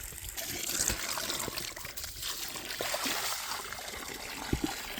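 Water trickles and splashes steadily while buckets are rinsed out outdoors on a pig farm, a continuous close wash of running water with a few sharp knocks near the end.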